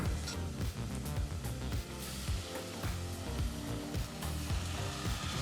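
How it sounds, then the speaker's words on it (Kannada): Soaked broccoli hisses in hot tempering oil with a dense, steady sizzle that carries on quietly and evenly throughout, with faint stirring clicks and no talk. "ನೀರಿನಿಂದ ಹೊರತೆಗೆದು ಬ್ರೋಕ್ಲಿನೂ ಸಹ ಒಗ್ಗರಣೆಗೆ ಹಾಕ್ಕೊಳ್ಳೋಣ"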